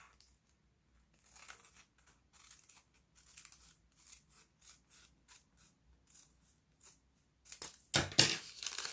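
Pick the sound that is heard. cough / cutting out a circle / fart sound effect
cutting out a circle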